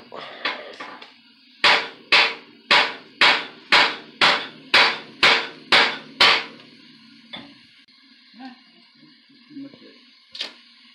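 Hot metal is hammered in a quick run of about a dozen evenly spaced, ringing blows, followed by quieter scattered taps and a last single strike.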